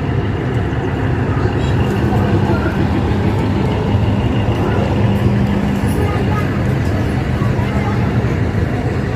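A Godda-Dumka passenger train stands at platform 1 of a railway junction, a loud, constant low rumble of engine and carriages beneath a busy hum of crowd chatter on the platform.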